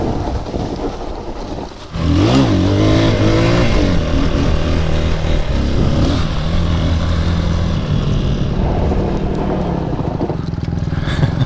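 A Brozz 250 Chinese dual sport motorcycle on a forest trail rumbles at idle, then its engine revs up loud and close, holding a droning pitch that rises and falls.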